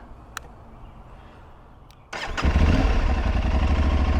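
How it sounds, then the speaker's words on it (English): An Aprilia Tuareg 660 motorcycle cranks briefly and fires up, then settles into a loud, steady idle close by after a quiet lead-in with a couple of small clicks. "Let's start the bike."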